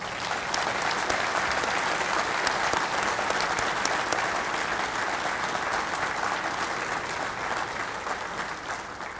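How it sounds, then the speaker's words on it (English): Sustained audience applause at a NAWEOA game warden ceremony, many hands clapping steadily and loudly for the full stretch with faint crowd murmur underneath. "So let's give them a round of applause."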